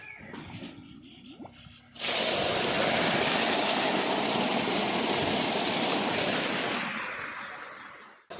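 A motor pump suddenly starts gushing water, a loud, broad rushing roar that holds steady for several seconds before easing off, preceded by quieter mechanical handling sounds.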